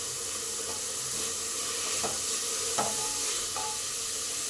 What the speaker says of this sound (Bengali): গাজর বিনসটাকে হালকা করে ভেজে নেব।